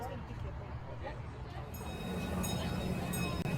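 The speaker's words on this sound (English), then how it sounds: "And here's our train." A miniature live-steam ride-on train rumbles in steadily, its low drone growing louder, with faint squeals and hiss above; voices murmur in the background.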